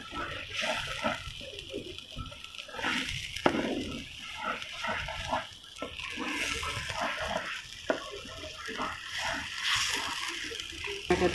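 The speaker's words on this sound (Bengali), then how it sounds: "এটাতে জল দিয়ে দিলাম।" Water poured into a spicy ground spice paste in a cooking pot, a steady wet splashing and trickle running through the whole stretch with some clatter, fairly close and continuous.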